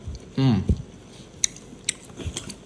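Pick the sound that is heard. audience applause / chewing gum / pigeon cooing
chewing gum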